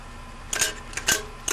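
The spring-driven rotary shutter of an old box camera flips with short mechanical snaps, three or four close, crisp clicks in quick succession.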